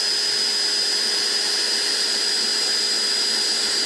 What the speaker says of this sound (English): Drill that hole right there.